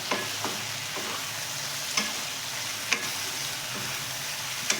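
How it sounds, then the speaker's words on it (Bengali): Bengali-style chicken kosha fries with garam masala and spices in a pan, a steady close sizzle broken by a few sharp clinks and scrapes of a stirring spoon, with no talking. "এগুলো সব ভালো করে মাংসের সাথে কষবো"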